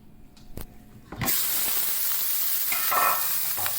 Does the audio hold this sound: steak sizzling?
yes